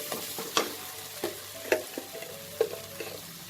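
Ready-made chole masala spices sauté in a pan for Bengali-style chana masala, with a steady close sizzle broken by several clinking stirs of a spoon against the pan.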